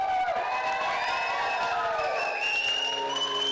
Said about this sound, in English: a round of applause for Ben and Georgia